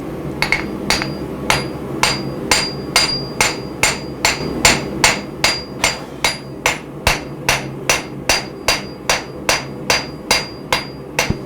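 Steady, regular hammer blows ring on steel at an anvil during blacksmith forging of a ladle, about two strikes per second, loud and close with a bright metallic ping on each hit.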